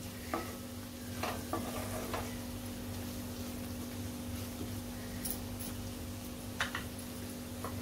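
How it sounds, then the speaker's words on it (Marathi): Coriander-cumin powder stirred in a hot pan for a chickpea and spinach dish; a soft, steady sizzle with a few faint scraping stirs, quiet and continuous, heard alone with a low steady hum beneath. "आता धने जिरे पावडर घातली, मिक्स करून घ्यायचे मसाले चांगले।"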